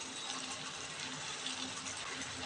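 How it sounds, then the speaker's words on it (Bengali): Hot water is poured into a pot of cooking meat curry, giving a steady, soft rushing splash that runs without a break and with no talk. "আর একটু আমি কষিয়ে তারপর গরম জলটা দিয়ে দেবো।"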